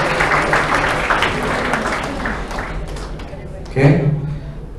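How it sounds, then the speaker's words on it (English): Applause for a delegate at a Model United Nations closing ceremony, moderate crowd clapping that gradually thins out, with a thump and voices near the end. "A big round of applause for the delegate of Bolivia"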